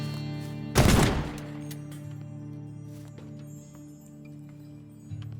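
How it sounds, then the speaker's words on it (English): A single loud shotgun blast in the Teardown video game, fired at a padlock, with a short decaying tail and a quiet steady hum afterward. "these padlocks are no match for the old shotgun"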